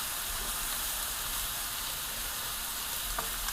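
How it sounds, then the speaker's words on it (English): Wedding soup stirred in a pot on the stove, a steady simmering hiss and bubbling with faint scraping of the spoon, continuous and close with no talking. "Just gonna set it right there for a moment while I just stir my soup"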